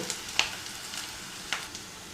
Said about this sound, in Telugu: ఉల్లిపాయ ముక్కలను దూరం అయ్యేంత వరకు వేయించుకుందాం